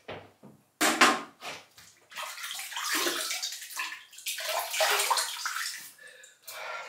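Water from a tap runs to wet a shaving brush, in a loud splashing stream that starts and stops in bursts with short gaps between.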